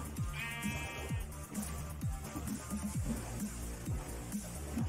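Sheep bleats from the video game Minecraft, a long wavering bleat near the start and then repeated short game sounds over steady background music.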